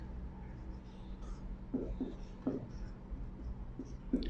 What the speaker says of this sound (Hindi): सिंपली हम लिख देंगे